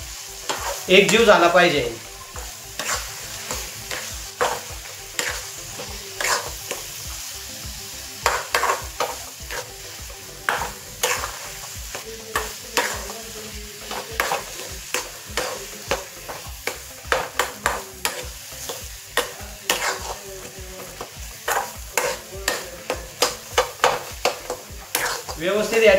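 Spices including cumin powder roast in a kadhai for chicken curry, with a spatula scraping and stirring in repeated close strokes over a faint sizzle for the whole stretch. A voice speaks briefly near the start.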